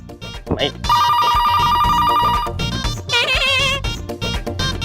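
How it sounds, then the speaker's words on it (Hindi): A telephone rings in a domestic drama scene, a bright electronic ringtone bursting in loudly and repeating with short gaps, heard alongside music and voices. "फोन क्यों नहीं उठाता कोई?"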